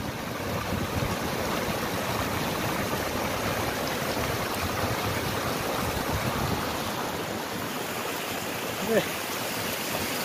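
Steady rushing and splashing of water pouring from a row of twenty-two stone spouts, continuous and fairly close, with no break across the whole stretch.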